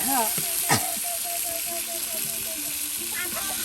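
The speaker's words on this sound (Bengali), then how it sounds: "এখন পেঁয়াজ ও মরিচ কুচি একসাথে তেলের সাথে এই যে দেখুন ভেজে নিচ্ছে" Chopped onion and chili frying together in oil after fish has been fried, a steady close sizzle under a voice speaking throughout.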